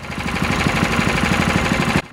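A Honda GX160 small engine runs steadily with a rapid, pulsing putter, loud and close, then cuts off abruptly just before the end.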